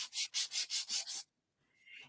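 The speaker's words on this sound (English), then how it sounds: "with our sanding block." Six quick, even back-and-forth rasping strokes of a sanding block across red cardstock, close and fairly loud, then a pause and a faint scrape.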